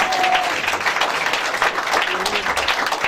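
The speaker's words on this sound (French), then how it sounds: "Est-ce qu'on peut acclamer le Seigneur?" A church congregation at a Sunday service claps and cheers in praise, a steady, dense wash of applause lasting the whole moment with voices mixed in.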